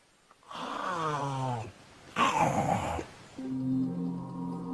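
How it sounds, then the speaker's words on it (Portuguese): A giant snake swallowing its prey, giving three long, loud, rasping snore-like groans separated by short pauses, close and alone. "Ela fazia um som que parecia um ronco."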